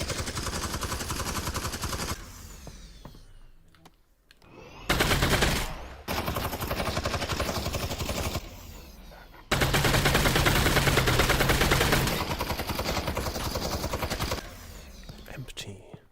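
Rapid gunfire in the virtual reality game Half-Life: Alyx, loud sustained bursts of shots with brief gaps and reload pauses between volleys.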